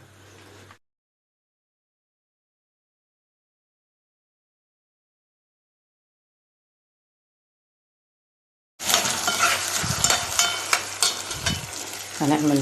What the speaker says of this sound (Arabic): نحمر الرز